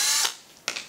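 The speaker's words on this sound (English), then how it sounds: "Take the screws out." Screws being removed from a small Edison plug while taking it apart for an electrical stage stringer: a short ratcheting, mechanical whir, then a brief second burst, close and fairly loud.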